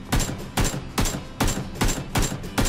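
Bursts of automatic gunfire in PUBG, six sharp volleys spaced roughly half a second apart, loud and close with no talk over them.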